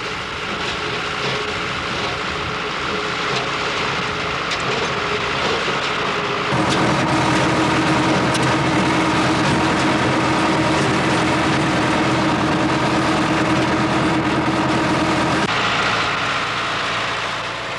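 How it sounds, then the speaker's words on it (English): A tractor-driven, specially modified disc mower cuts camomile flowers in the field, a steady loud engine drone with a dense whirring mechanical roar that shifts in tone partway through, continuous and close. "Cutting is carried out using a specially modified disc mower, which cuts the flowers off with the minimum amount of stalk."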